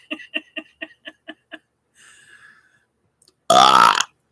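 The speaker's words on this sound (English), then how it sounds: "showing the burps that come up when I finally can't keep" A single loud, drawn-out burp after chugging a 20-ounce bottle of Sprite, following a series of short rhythmic clicks and a faint murmur, close to the microphone.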